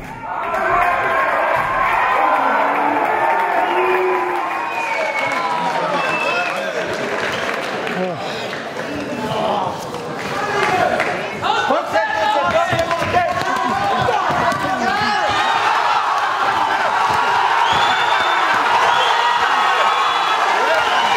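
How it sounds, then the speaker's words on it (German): A crowd roars and cheers at a kickboxing fight night, the noise sustained and dense over the full stretch, with a commentator talking over it. "Das Publikum rast."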